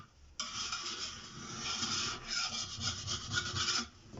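Wide back side of a plastering rule being cleaned while setting plaster guides in an apartment renovation: close, continuous scraping and rasping rub lasting about four seconds, with no talk.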